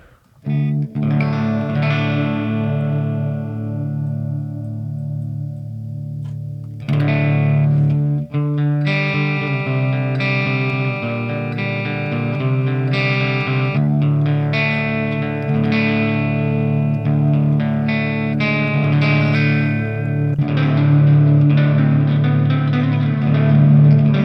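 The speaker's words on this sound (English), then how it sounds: "This is probably where I would add the chorus here." Clean electric guitar chords and picked notes through an Audio Assault Shibalba amp plug-in (Bognar Shiva model) ring out with a shimmering, wavering chorus effect and some reverb, played steadily for a long stretch.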